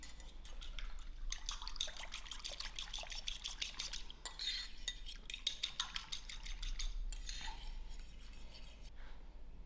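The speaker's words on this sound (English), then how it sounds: "a good beat." Rapid, rhythmic clinking of a utensil beating an egg with water in a bowl, a run of quick metallic taps close by, with no talking.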